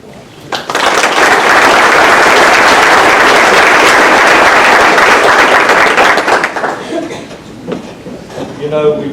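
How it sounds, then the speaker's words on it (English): Loud, sustained applause from an audience at a courthouse ceremony, rising quickly and holding for several seconds before tapering off as voices return. "I would like to give them a round of"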